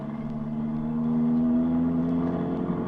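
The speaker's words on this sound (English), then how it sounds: "Well, drive to it fast." A steady engine rumble with a droning low hum of a taxi driving fast, continuous and fairly close, no voices.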